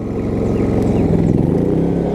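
A Westinghouse 4500-watt inverter generator runs loudly under an electric fireplace load, its engine droning steadily close by with a slight rise as it surges, no talking.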